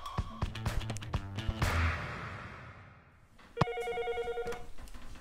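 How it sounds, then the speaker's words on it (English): A hospital standby telephone rings in two bursts of bright electronic trilling, close and clear, with a brief lull and soft handling noises between the rings. "that was the standby phone"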